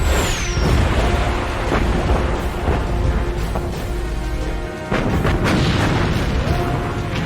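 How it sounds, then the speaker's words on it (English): Heavy naval gunfire from the German battleship Bismarck in May 1941, with loud sustained booming rumble and blasts layered densely, likely with dramatized battle effects and no clear voices. "Bismarck fires again."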